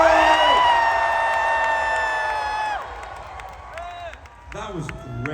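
A festival tent crowd at a vegan camp-out event lets out a loud, sustained cheer with whoops and shouts that holds for a few seconds before thinning out into scattered voices and calls.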